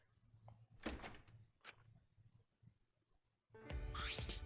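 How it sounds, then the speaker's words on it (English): A few quiet thumps and clicks, then a door in Danganronpa V3 slides or swings open with a louder rattling, whooshing sweep at the end. "I went to open the door"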